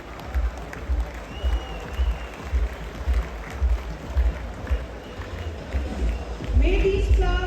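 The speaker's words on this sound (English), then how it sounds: "A huge round of applause for his warm welcome." A large audience claps during a formal welcome ceremony with a bouquet presentation, the applause coming in rhythmic bursts of fairly loud, close clapping that swells near the end, with voices mixed in.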